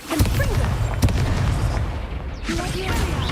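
Two crackling fire spells are cast in Hogwarts Legacy, each a sharp burst followed by a whooshing rush, loud and close, with a voice calling out between them.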